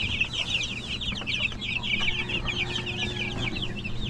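Chickens and a turkey crowded in a farmyard coop cluck and chatter steadily, several birds overlapping close by with a low background hum and no talk.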